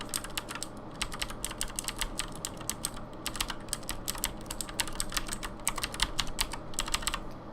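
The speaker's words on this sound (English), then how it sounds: "this is just a sound test to show that you can audibly hear the difference between the two keyboards" A Razer BlackWidow Ultimate 2016 mechanical keyboard being typed on, with rapid, fairly quiet clicky keystrokes in an uneven but continuous rhythm and no voices.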